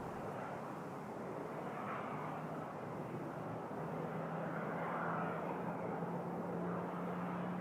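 Lufthansa Boeing 787-9 heavy jet bound for Heathrow lines up on runway 05 at Toronto Pearson, its engines giving a steady, broad, fairly distant roar that holds at an even level, with no talk.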